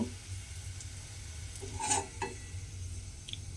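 Potato patties fry in hot oil as they are turned to brown, a soft steady sizzle with a couple of brief scraping stirs of a utensil, close and without talk.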